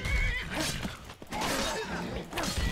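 A horse in The Elder Scrolls V: Skyrim Special Edition gives loud, close whinnying neighs that fill most of the clip, with a brief pause in the middle and hints of hoof clatter mixed in.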